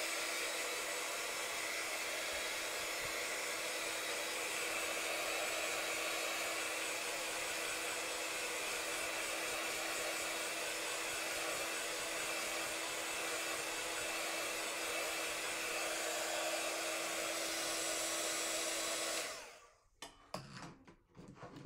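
A hair dryer blows steadily and loudly on a mixed media farm painting for about nineteen seconds, a continuous whooshing drone that cuts off abruptly near the end, leaving scattered small handling noises.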